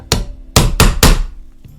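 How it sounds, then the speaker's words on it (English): A light hammer taps a new bushing into the brass plate of a New Haven steeple clock: four sharp, close metallic knocks, with the last three coming in a quick even run, followed by a faint fifth tap. "Then hammer it home."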